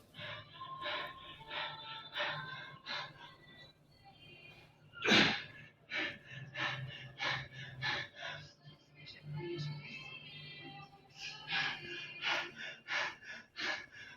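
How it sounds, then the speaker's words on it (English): Heavy, rapid panting and gasping breaths right after a set of 20 reps with about 90 kilos of weight, close and rhythmic, with one sharp gasp standing out midway. "I'm panting like a dog"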